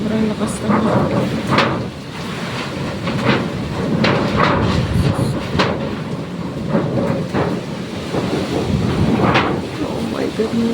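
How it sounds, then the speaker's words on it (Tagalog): Strong typhoon wind roars and gusts continuously, buffeting the microphone, with rain or debris noise mixed in, during Typhoon Kristen in the Bicol region. "Sobrang lakas ng hangin."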